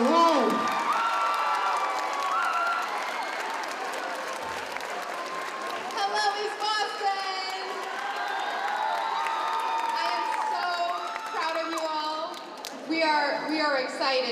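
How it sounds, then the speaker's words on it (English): A high school crowd in East Boston applauds and cheers for the city's mayor. The clapping is steady and sustained, with whoops and shouted voices rising through it, and a voice speaks briefly near the end. "Have a nice round of applause for Mayor Wu."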